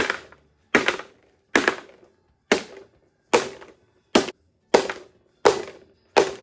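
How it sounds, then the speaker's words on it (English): Round cake pans full of strawberry cake batter are banged down on a counter about nine times in a steady rhythm, each sharp close knock ringing briefly before the next, with no voices. "bang them to get the air bubbles out"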